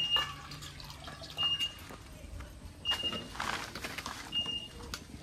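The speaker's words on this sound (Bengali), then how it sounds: "আলু কচুগুলো কাটা হয়ে গেছে, এখন ধুয়ে সেদ্ধ দিয়ে দেব" Cut taro and potatoes are rinsed in water, producing quiet, intermittent splashes and drips with a brief fuller slosh partway through against a faint background.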